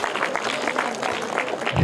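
An audience of schoolchildren claps in a burst of applause for a correct quiz answer, close and lively, lasting under two seconds.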